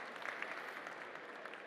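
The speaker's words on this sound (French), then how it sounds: "On peut déjà vous applaudir" An audience at a cybersecurity conference applauding a speaker after an AI security talk, a dense, even patter of clapping from many hands heard at a moderate distance.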